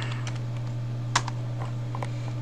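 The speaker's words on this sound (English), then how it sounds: "and you type in virus" Keys tapped on a computer keyboard while a search word is entered, a short run of light clicks with one louder stroke, close and alone over a steady low hum.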